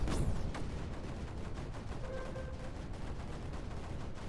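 Cannons firing in Creeper World 4, a strategy game: one sharp blast opens, then a dense, fairly quiet stream of rapid popping shots continues steadily, with a short whistling tone partway through.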